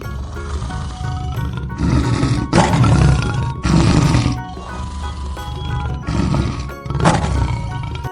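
A lion roars in a series of deep, rough bursts that repeat through the clip, loud and close, with short pauses between calls.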